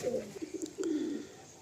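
Pigeons coo softly inside a pigeon loft, a few short low cooing calls followed by a longer throaty coo, fairly faint and close, with no talk over them.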